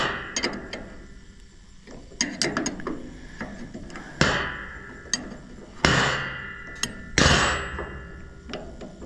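Metal tools strike and ratchet on the idler of a Great Plains 1006 NT small seedbox during disassembly, giving a string of sharp, close clanks and clicks with louder hits spaced a second or two apart.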